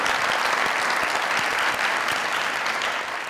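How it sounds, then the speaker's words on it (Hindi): An audience on a comedy show claps together in sustained applause, dense and steady, tapering slightly toward the end. "मैं सबको कहूंगा कि आपके लिए ताली बजाएं"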